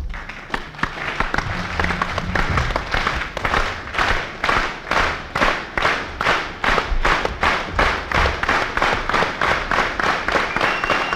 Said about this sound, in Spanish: antes de partir, un aplauso chicano.